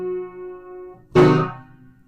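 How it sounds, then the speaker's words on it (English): A piano holds a soft, sustained chord before a sudden, loud sforzando chord strikes, ringing out and decaying with no talking. "the very end with that very sudden and loud note, that is the sforzando"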